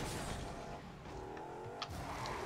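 Car engine in the video game Rocket League, a steady droning hum with shifting revs running throughout, moderately loud, with a brief sharp click near the end.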